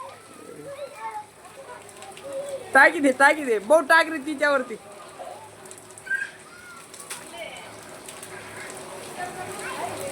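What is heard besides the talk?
heavy rain with hailstorm in village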